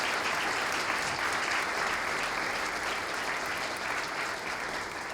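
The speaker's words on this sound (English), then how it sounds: "Let's give them a round of applause." A steady round of audience applause honoring veterans at a business and heritage award ceremony, dense even clapping from the crowd heard at moderate distance and holding throughout.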